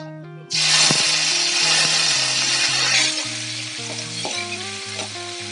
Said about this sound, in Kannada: ಜೀರಿಗೆ, ಮೆಣಸಿನ್ಕಾಯಿ ಹಾಕೊಂತೀನಿ ನೋಡ್ರಿ.